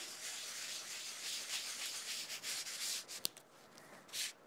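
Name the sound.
rubbing gilding flakes with a Rub It Scrub It pad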